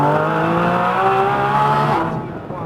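A Nissan GT-R Nismo accelerating on a race track, engine note rising steadily for about two seconds from inside the car, then dropping off as the throttle eases.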